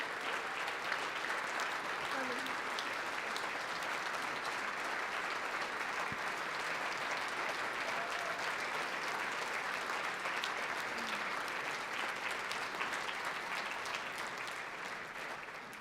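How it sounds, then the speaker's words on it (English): A fundraising gala audience applauds the Edmonds family warmly and steadily, a thick, continuous roar of clapping that holds evenly and only starts to ease at the very end. "can we give the Edmonds a round of applause for having the courage to share their story with us tonight?"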